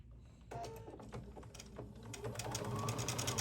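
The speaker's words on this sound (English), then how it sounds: "And we're sewing in the other sleeve." A sewing machine running steadily nearby, its rapid mechanical stitching whir continuous and slightly building in loudness as a sleeve is sewn into a Hawaiian shirt, with no talking.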